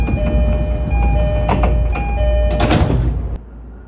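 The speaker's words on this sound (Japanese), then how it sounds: "列車に乗車、扉が閉まります" Doors sliding shut on a local train at Jinbohara Station, a loud burst of door motion and thump over steady platform and carriage hum, with chime tones before; the noise drops off sharply at the end.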